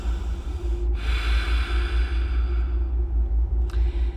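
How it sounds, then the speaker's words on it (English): Slow, audible ujjayi breaths rasp through a constricted throat and out the nose, a long hissing exhale like an ocean wave, close and steady. "the activation is with a breath coming through the back of your throat and out through your nose"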